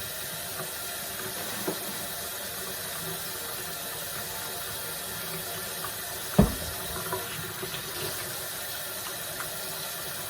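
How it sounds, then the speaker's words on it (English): Water runs from a tap into a sink as hands are washed with antibacterial soap, a steady, fairly faint hiss with a single knock midway and small splashes. "And I always use antibacterial soap, as you can see, to wash my hands."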